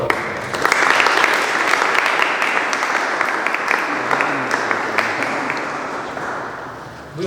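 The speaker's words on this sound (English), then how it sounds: "We would like to give all of our old boys a round of applause before we begin." Sustained audience applause at a Malik Chiragh Khan Challenge Cup 2021 event, a dense, steady wash of many hands clapping that holds loud throughout and tapers slightly at the end, with no talk over it.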